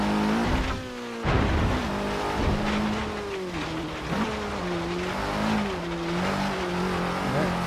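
A 2013 Dodge Dart GT in Forza Horizon 3 on an uphill climb, its engine revving up and down through gear changes with bursts of tire squeal, loud and close, without any talking.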